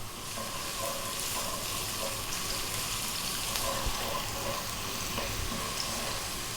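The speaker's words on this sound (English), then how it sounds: "We're going to drop in the ginger first, and you can see and hear that we're on quite a high heat" Ginger sizzles steadily in hot corn oil over high heat, a dense continuous frying crackle with faint stirring sounds and no talking.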